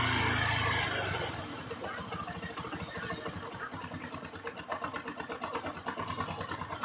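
A Bajaj Discover 100cc motorcycle engine being tuned at its fuel mixture and air screws, starting up and then settling into a close, steady, pulsing idle.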